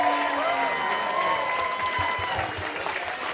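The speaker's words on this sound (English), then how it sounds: "Let's give Rylie a round of applause" Applause and cheering from a professional wrestling crowd for Rylie Jackson at a Silas Young match, a steady dense roar of clapping filling the arena with voices mixed in throughout.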